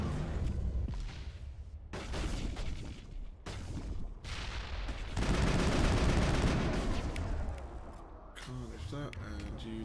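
Shotgun fire in the video game Mass Effect: sharp, loud bursts of gunfire separated by short pauses, mixed with other combat noise, with people talking over the action.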